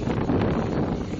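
Strong wind on Boracay during the southwest monsoon season buffets the microphone in a steady, broadband roar with rumbling gusts and no clear voices.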